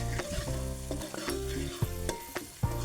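A tadka of salt and red chili sizzling in hot oil over a chulha, stirred: a steady close sizzle with sharp scraping clinks of the spoon against the pan at irregular moments, no voices.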